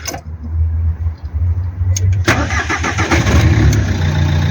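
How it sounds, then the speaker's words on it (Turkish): A car with an EDC automatic transmission, parked in P, is started: a loud close-up cranking whir catches midway and settles into a steady, rumbling idle. "Aracı çalıştıracaksınız."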